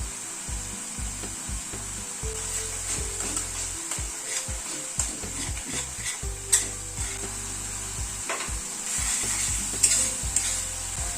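Poppy seed paste frying in oil for bhetki fish, a spatula scraping and knocking against the pan in a steady rhythm over a gentle sizzle, close by with no talking.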